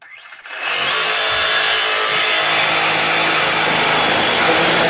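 A DeWalt power saw cuts around a corner, its motor snapping up to a steady, loud, close whine that holds without a break.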